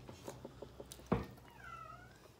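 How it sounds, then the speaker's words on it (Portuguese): A cat meows once from outdoors, apparently up on a house roof, a short rising-and-falling call heard at a moderate distance over quiet background rustle and faint clatter. "Onde tá esse gato, mãe?"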